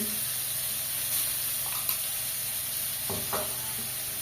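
Cumin, ginger and chili paste sauté in a little oil for moong dal, a soft steady sizzle with faint stirring scrapes and a couple of brief knocks.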